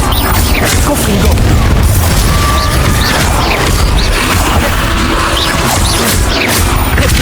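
Confringo spell blasts in the Hogwarts Legacy video game, heard as loud booming explosions and crashes in dense, continuous combat audio with whooshes and impacts throughout.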